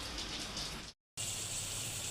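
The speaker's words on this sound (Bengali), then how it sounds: "অনেক বৃষ্টি পড়ছে।" Heavy rain pours down in a dense, steady hiss that cuts out completely for a moment near the middle, then returns just as strong.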